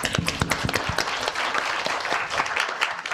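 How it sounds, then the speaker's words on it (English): An audience at an education technology summit in Melbourne claps for an emcee: a round of applause with distinct sharp claps, fairly close and lively, holding steady for a few seconds. "If we could all give her a round of applause."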